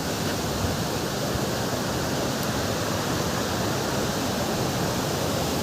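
Floodwater after heavy rain pours down over a check dam like a waterfall, making a loud, dense, unbroken roar of rushing water that stays steady and close the whole time.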